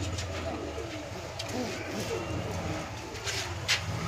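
Low cooing from Madrasi pigeons in a loft runs steadily under a voice, with occasional sharp rustles and wingbeats.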